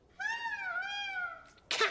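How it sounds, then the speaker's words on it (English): A cat gives one long, clear meow with a gently falling pitch, close and fairly loud, followed by a brief noisy burst at the end. No one speaks. "There aren't any, cats in this hotel, are there?"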